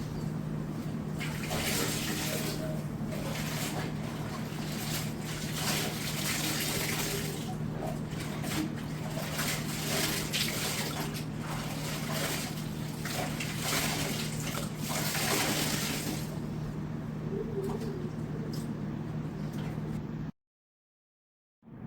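Socks and towels hand-washed with body wash are rinsed in clean water, a continuous running, splashing flow of water with gentle swishing that goes on steadily for about twenty seconds, then cuts out abruptly.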